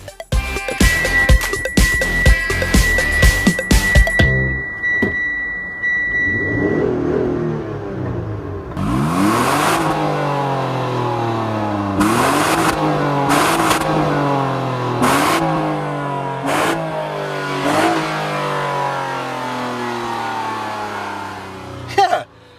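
A 2014 Mitsubishi Outlander GT V6 revs hard off road on a rocky, muddy trail, the engine climbing and falling in repeated loud surges after an opening stretch of clattering knocks, with no speech.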